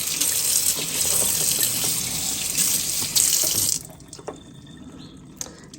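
Tap water runs hard into a kitchen sink as glass jars are rinsed under the stream, a loud steady gush that cuts off abruptly, leaving a few drips and small clinks.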